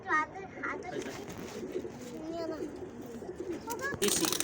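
A crossbred pigeon coos in soft, throaty rolls, close by and repeated several times, while people talk nearby and a brief sharper sound breaks in near the end.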